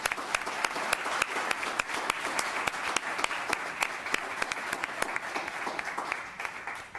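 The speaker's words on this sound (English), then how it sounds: "let's give this astounding young woman a round of applause" Applause at a town council meeting, a moderately distant room full of people clapping steadily with distinct individual claps standing out, sustained evenly throughout without speech.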